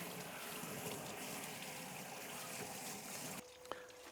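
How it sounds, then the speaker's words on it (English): Water running steadily while a container is rinsed out, a continuous close gushing wash that cuts off abruptly near the end, leaving a brief faint clink. "And let me rinse this out while I'm thinking about it."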